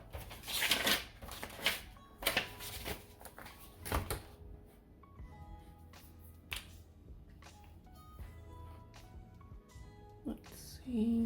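Cash bills are handled while budget envelopes are unstuffed, close papery rustles, flicks and snaps in irregular bursts separated by quieter stretches, with faint handling clicks.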